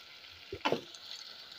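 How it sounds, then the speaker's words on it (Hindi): Chicken frying with whole spices such as cinnamon, cloves and cardamoms for a karahi, giving a steady faint sizzle with one brief louder stir-and-scrape burst in the middle. "तमाम स्पाइसेस को चिकन के साथ हम 5 मिनट के लिए फ्राई कर लेंगे।"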